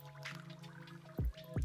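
A crocheted wool sheep pouch is lowered into cold water to soak, giving a few soft close drips and plops in a quiet room.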